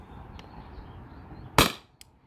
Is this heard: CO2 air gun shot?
yes